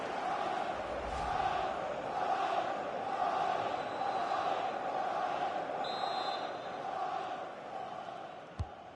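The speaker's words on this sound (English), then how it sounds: "The crowd sense a goal." A steady stadium crowd roars and murmurs throughout a FIFA 20 football match, rising with anticipation of a goal, with a sharp click near the end.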